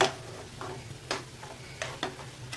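A spoon stirs moong dal halwa in ghee with cardamom powder and roasted dry fruits, giving a series of faint, irregular scraping clicks against the pan over a soft low sizzle.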